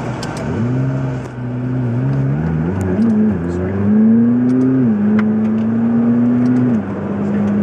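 McLaren MP4-12C engine accelerating in full track mode, a loud close engine note rising through the revs with gear-change dips, then holding high before easing off, with faint voices underneath.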